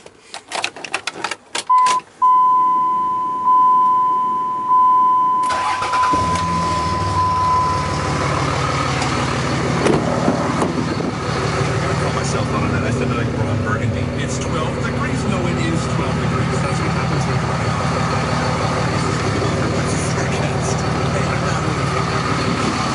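A 2004 Dodge Ram 2500HD Laramie 4x4 with a Cummins diesel: key jangles and a warning chime, then the engine cranks, catches and settles into a loud steady clattering idle while someone speaks.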